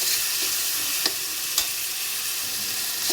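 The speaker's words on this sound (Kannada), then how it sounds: "ಸೊ ಇದಕ್ಕೆ ಟೊಮೆಟೊನೂ ಹಾಕ್ತಿದ್ದೀನಿ. ಸೊ ಇದನ್ನು ಚೆನ್ನಾಗಿ ಮಿಕ್ಸ್ ಮಾಡ್ಕೊಳ್ಳಿ." Tomatoes are stirred into masala frying in a pan, a steady bright sizzle throughout with a couple of soft spoon scrapes, close and alone without talk.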